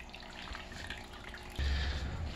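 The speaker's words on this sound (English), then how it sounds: "I literally pour the stuff on houseplants" Aquarium water poured onto a houseplant: a steady liquid splash and trickle, close and moderately loud, growing heavier and fuller partway through, with no voices.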